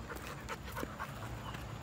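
A well-behaved young dog pants softly and steadily nearby, a quiet rhythmic breathing over low room noise, with no talking.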